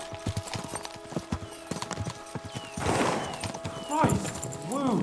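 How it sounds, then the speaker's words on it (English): Horses galloping in Kingdom Come: Deliverance II, with rhythmic clip-clop hoofbeats close by and a neigh or whinny near the end. "We should spur the horses on."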